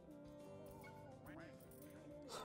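A duck quacks in the Roblox game Duck Army, with short nasal cartoonish calls that sit under and between a man's lively, steady game commentary.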